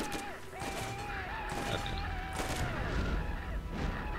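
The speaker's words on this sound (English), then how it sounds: "that explosion was too big for my bullets" Explosions and rapid gunfire from a Borderlands co-op game session, a dense, loud barrage of booms and shots with whistling tones over continuous battle noise.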